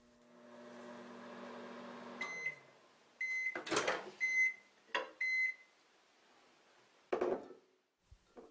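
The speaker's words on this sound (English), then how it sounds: "I am now microwaving my white soap for 40 seconds." Microwave oven running while melting chunks of white soap, a steady hum with clicks and door sounds, followed by several short electronic beeps and clunks as the door opens and closes.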